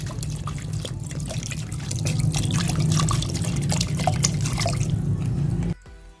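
Water poured from a container into a mixture of potato in a bowl, a continuous splashing trickle with dripping that swells midway, then stops abruptly near the end.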